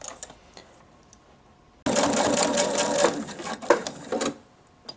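A home sewing machine stitches fabric for a homemade face mask, starting abruptly after a quiet moment and running steadily for a few seconds before tapering off with a few closing clicks.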